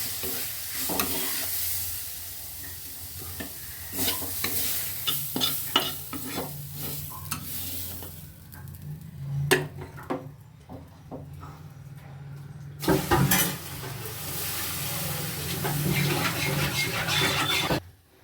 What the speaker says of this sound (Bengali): সর্ষে শাক ভাজা হয়ে গেছে